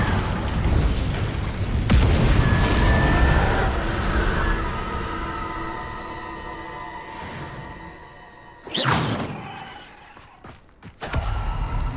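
Incendio fire spell cast in Hogwarts Legacy: a loud rushing whoosh and booming burst, fading, then sharp explosive pops and bursts near the end, with no talking.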